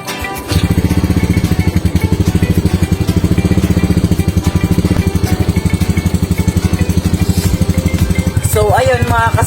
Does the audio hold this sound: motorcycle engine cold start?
yes